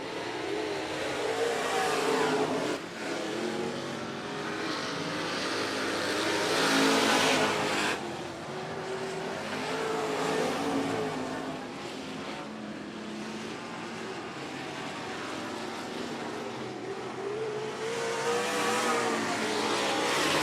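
A pack of race cars laps a speedway oval, engines swelling and fading in long waves as cars pass, a continuous loud roar at moderate distance.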